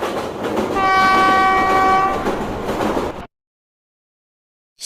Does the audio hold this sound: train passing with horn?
yes